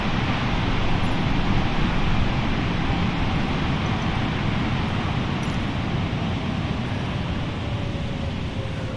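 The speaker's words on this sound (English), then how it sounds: "did you hear the engine noise? So because it was stormy and it was windy, the engine power increased." A stormy wind roars together with an aircraft engine in Microsoft Flight Simulator, a loud, steady, dense rush that continues unbroken from start to finish.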